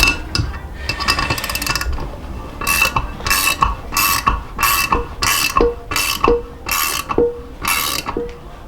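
Metal-on-metal ratcheting from a wrench tightening a valve during engine disassembly, a series of about eight regular sharp clicking strokes, close and fairly loud, with no talking.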